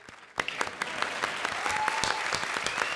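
A studio audience at a comedy show breaks into applause after a brief quiet moment, with dense, steady clapping that stays loud and close until the end.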